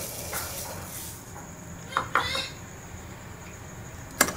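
A spoon stirs sugar into boiling milk in a metal pot, giving a few sharp clinks against the rim over a steady low simmering hiss.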